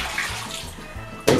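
Water splashes and trickles as clean rinse water is poured out of a small bath used to wash a toy, close by, ending with a brief louder gush.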